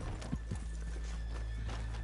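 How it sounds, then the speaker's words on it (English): Horses in Red Dead Redemption 2 clip-clop in a few uneven hoof strikes over a low steady background hum, close and fairly quiet. "let's leave the horses here off the main drag"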